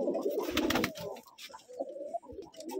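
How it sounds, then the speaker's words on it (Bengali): Biscuit-coloured Rajshahi gerebaj pigeons coo in soft, repeated throaty rolls, close and fairly clear, with a busier cluster of calls at the start and scattered coos continuing to the end. "এইরকমই অসাধারণ কিছু কবুতর নিয়ে হাজির হবো আপনাদের সামনে"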